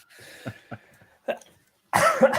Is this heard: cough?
yes